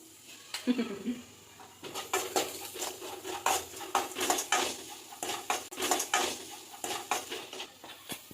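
Food frying in a pan in a home kitchen, with repeated sharp metallic scrapes and clinks of a spoon stirring against the pan, irregular and fairly close, over a faint background.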